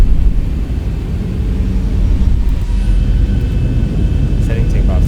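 Airliner jet engines in X-Plane spool up toward takeoff thrust, a loud, steady broadband roar with a deep low rumble that holds constant throughout, with no talk over it.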